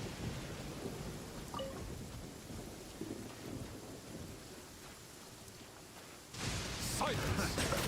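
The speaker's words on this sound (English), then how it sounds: "This heavy rain must be quite an inconvenience for you." Steady heavy rain hisses in the Genshin Impact video game, with low rumbles of thunder underneath, swelling sharply louder near the end as the downpour and storm intensify.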